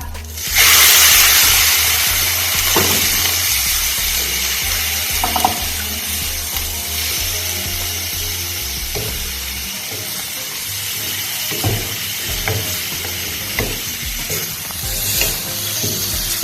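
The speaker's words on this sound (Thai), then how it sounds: "พอสามเกลือหอมได้ที่แล้วเราก็จะใส่หมูลงไปผัดจนสุกนะคะ" Pork stir-fried in a pan with a garlic, coriander root and pepper paste, a loud close sizzle with scraping stirs throughout and a low steady hum underneath.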